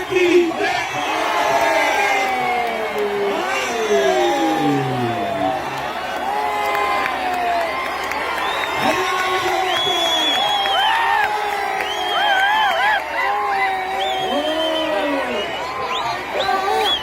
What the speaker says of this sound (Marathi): जोश आणि जल्लोष चालू झालेला